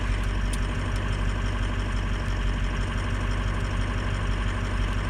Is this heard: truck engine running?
yes